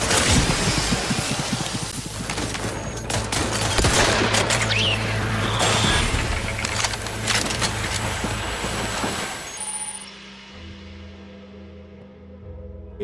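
Sustained volley of gunfire in the video game Outer Worlds 2, dense and loud, with crashing, splintering impacts for about ten seconds before it drops to a quieter rumble.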